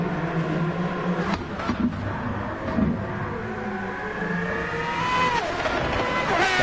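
A race car in Gran Turismo Sport accelerates out of a hairpin at the Pacific Grand Prix in the Red Bull World Series, its engine revving and climbing in pitch with loud, close, sustained roaring.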